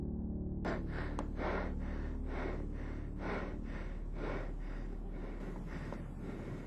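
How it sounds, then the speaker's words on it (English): A frightened man breathes heavily and rhythmically close to the microphone while filming, about eight loud, raspy in-and-out breaths in a steady pattern against a hissing background. "he can be heard breathing heavily in the video clip"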